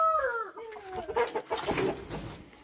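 Ornamental chickens cluck and squawk in quick, uneven bursts in a coop, fairly close, with one higher call rising above the rest; no one speaks.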